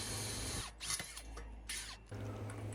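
A power drill with a 4.5mm bit whirs steadily at close range, pre-drilling screw holes for gate hinges, briefly dipping and surging as the bit bites, then resuming its continuous drone.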